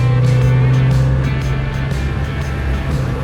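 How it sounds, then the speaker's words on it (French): A 2026 Kawasaki Z900RS motorcycle idles up close with a steady low engine drone, and the front airbox adds a slightly raspy, hoarse edge to the continuous sound. "On entend bien la boîte à air devant qui fait un petit bruit rauque."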